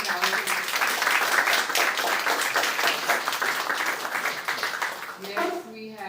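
Audience applause for a speaker at a live-streamed creators and AI event at the Microsoft Experience Center in New York, a steady dense wash of clapping that holds for several seconds before thinning out, with a voice coming in near the end.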